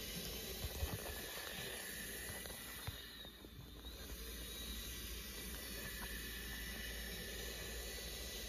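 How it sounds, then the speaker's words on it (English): A World Dryer VMax V2 hand dryer runs in a San Diego International Airport restroom, giving a steady, unbroken airy roar and hiss that stays at one level throughout and sounds somewhat distant. "This is going to be an awesome dryer."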